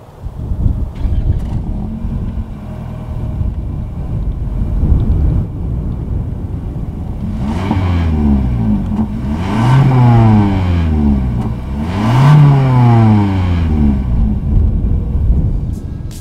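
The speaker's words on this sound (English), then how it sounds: "As always, here is that exhaust clip." A 2019 Lexus UX 200 with a single exhaust outlet idles close by, then revs in three sharp rising-and-falling blips, each swelling louder before dropping back to a steady rumble.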